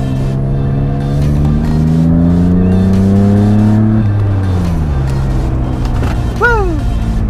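A Mercedes W203 with a swapped M104 engine and six-speed manual revs hard and loud up through the gears on back roads. The engine rises, drops on a shift, and then falls back to idle.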